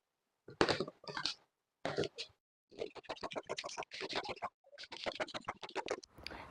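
Scissors cutting fabric for a belted bubu dress: close, crisp snipping and crunching blade strokes in short bursts separated by brief pauses, with no talk.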